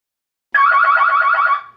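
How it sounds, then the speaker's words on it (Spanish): A DSC PowerSeries alarm panel sounds a loud, close electronic siren after a moment of silence, a steady warbling tone lasting about a second before cutting off cleanly. "Al activar la tecla de fuego, suena una sirena que les advierte a todos en el interior acerca del evento"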